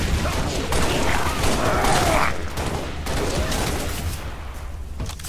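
Sustained gunfire during a Halo Reach legendary campaign battle, a loud continuous barrage of overlapping shots and explosions with mechanical clatter that carries through without pause.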